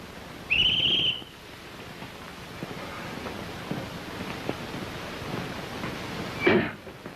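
A single short, high blast on a police whistle near the start, followed by quiet outdoor-sounding background noise and a brief muffled bump near the end.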